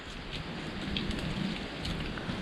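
Steady rain patters on a surface, a dense hiss of drops at moderate volume with scattered louder plinks, no voices.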